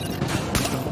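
Gunfire inside Grand Central Station in the video game Tom Clancy's The Division, a dense, reverberant burst of rapid shots with one sharper crack near the middle, loud and close throughout.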